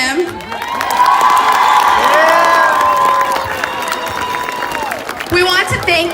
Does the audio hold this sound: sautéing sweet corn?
no